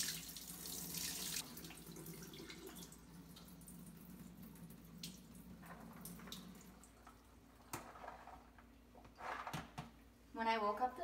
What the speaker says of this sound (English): So I'm going to go ahead and strain these beans.